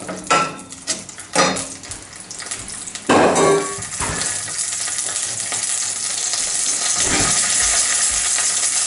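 Oyster mushrooms fry in a pan with oil and butter, giving a steady sizzle that builds and holds, broken early by a few clattering stirs and scrapes of the pan.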